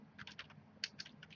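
Quiet keystrokes on a computer keyboard during command-line work, a loose run of soft clicks with one sharper tap near the middle, alone in a still room.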